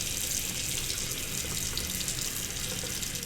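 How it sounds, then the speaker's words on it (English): Running water splashes steadily from a bathroom sink tap as face cleanser is rinsed off, a continuous close, even hiss with no pauses and no talking. "massage it in with a little bit of water and then rinse it off"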